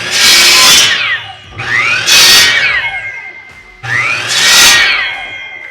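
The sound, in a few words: miter saw cutting wood pieces to length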